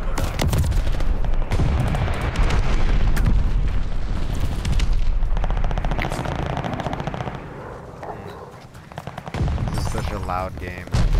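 Gunfire in the Call of Duty Vanguard video game during multiplayer matches, with dense bursts of machine-gun fire and booming explosions filling the whole stretch, loud and near, and game voices and players talking underneath.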